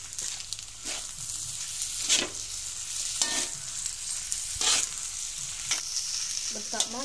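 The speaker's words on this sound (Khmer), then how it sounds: "យើងធ្វើការចាក់សាច់ក្រកដែលយើងចៀនឆ្អិនមិញចូលយើងលីងជាមួយបាយ" Pre-fried Khmer sausage is stir-fried with rice in a pan for sausage and duck-egg fried rice, giving a steady sizzle broken by repeated sharp scrapes and clanks of the spatula at a close, moderate level.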